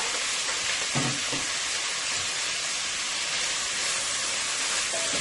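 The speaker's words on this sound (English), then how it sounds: "First, let's go ahead and start with our sausage. Let's get this fried up nicely here." Sausage frying on high heat in hot oil in a pot, a loud steady sizzle and crackle with a few soft stirring knocks, no talking.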